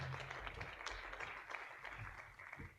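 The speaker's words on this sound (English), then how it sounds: "May I have the round of applause, please?" A symposium audience applauds at a grant awards felicitation, the clapping steady but fairly faint and muffled, with some low room rumble and a murmur of background voices.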